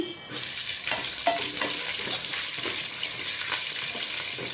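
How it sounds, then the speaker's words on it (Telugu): Thinly sliced onion frying in oil in a pan, for mint rice, makes a dense, continuous sizzle close by, with light stirring knocks scattered through it after a brief quieter start. "ఈ విధంగా ఇవన్నీ కూడా మంచిగా వేయించుకోవాలండి."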